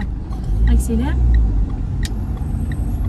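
A car pulls away from a start in first gear during a driving lesson near Cergy-Pontoise, with a steady low engine rumble under an instructor's speech.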